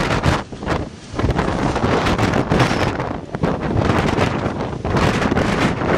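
Strong wind storm at Christ the Redeemer on Corcovado, with loud, continuous gusts buffeting and roaring across the microphone and only brief dips between surges.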